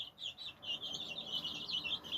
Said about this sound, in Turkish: yaklaşık 10 günlük oldu civcivlerimiz. Şu anda semiz otu yiyorlar.